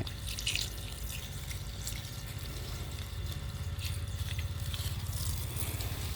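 Water runs from a small garden tap hose outdoors, a steady close rushing and spattering flow with faint dripping, heard alone without voices.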